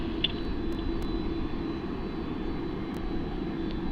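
Link Airways airliner landing on runway 34 left at Sydney Airport, a steady distant engine roar and low rumble, with faint brief clicks over the sustained drone.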